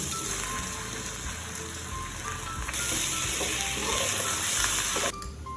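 Pulao rice being stirred into fried onions in a hot pan gives a steady, busy sizzle with scraping stirs throughout. The frying noise stays loud and continuous, with no voices.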